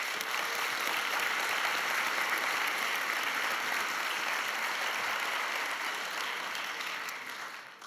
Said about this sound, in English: So I think we should also give them a round of applause.